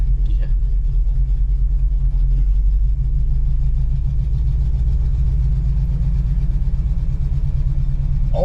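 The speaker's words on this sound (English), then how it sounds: "Old Chevy truck." An old Chevy truck engine idles with a steady, loud, low rumble and a fine pulsing throb, close by and unchanging throughout, with faint talk barely audible underneath.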